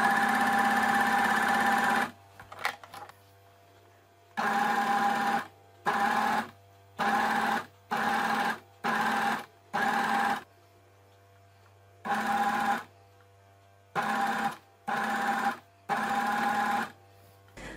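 An overlocker serges a T-shirt hem in repeated loud, even bursts of whirring stitching, each lasting about a second, separated by short pauses under a steady low background hum.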